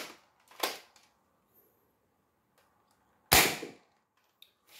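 Two sharp, loud shots from a modified Nerf Rival Knockout blaster firing foam balls, each a short snapping burst separated by a few seconds of near silence, close to the listener.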